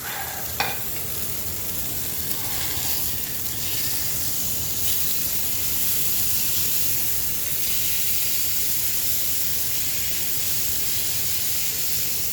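A flipped smashed burger sears on a hot griddle with a loud, continuous close-up sizzle and hiss. A brief scrape or tap comes at the start.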